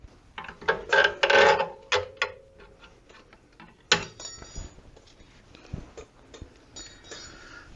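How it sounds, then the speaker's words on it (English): Metal clicks and rattles come from working the spring off a rear brake caliper on a 2008-2014 Mercedes-Benz C300 3.5L, with a cluster of sharp clinks early on, then scattered ticks and a clank close up. "I'll take the spring off first."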